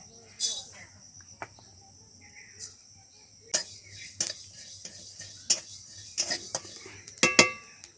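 Sharp metallic clinks and scrapes of a spatula stirring fennel and fenugreek seeds in a wok for mango pickle, scattered and irregular, over a quiet background with a faint hum.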